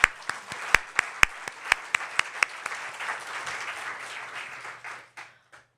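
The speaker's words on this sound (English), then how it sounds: "So let's give a round of applause to it." Audience applause following a speech at a Nordic American architecture panel event, starting with a few loud individual claps that swell into a dense, steady round of clapping before thinning out and stopping.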